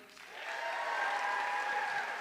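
Audience applause at a Stanly County Dancing with the Stars event as first-time attendees are counted: a steady wash of crowd clapping and cheering that swells in quickly and holds at even volume.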